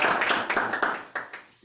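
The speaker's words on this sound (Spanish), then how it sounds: "Denle un aplauso al Señor." A church congregation claps for the Lord, a short burst of mixed hand claps that starts full and thins into a few scattered, fading claps within under two seconds.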